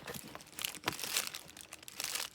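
Plastic wrapping crinkles and crunches as it is pulled off a Marc Jacobs The Scene bag, a close, busy run of rustles with sharper crackles scattered through it and no talking.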